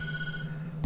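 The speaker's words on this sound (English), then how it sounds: "Answer that phone." A telephone rings in the horror video game Tattletail, a short sustained electronic ringing tone held steady and fairly loud, with no talk.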